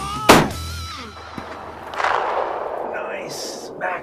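A single loud, sharp rifle shot cracks out near the start during an outdoor deer hunt, followed by a fading open-air tail and quiet murmured talk.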